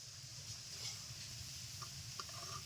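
Semolina and egg biscuits frying in oil as they are lifted out, a soft continuous sizzle with a couple of faint metallic clicks near the end, quiet and close with no talking.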